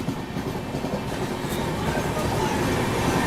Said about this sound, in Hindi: बढ़िया स्पीड अप हो रहा है भाई इसका तो, धनबाद स्पेशल का।